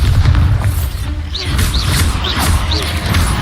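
Bombarda spell explosions in the video game Hogwarts Legacy, loud deep booms and crashing bursts layered with magical whooshes and chirping effects, repeated in quick succession at close range.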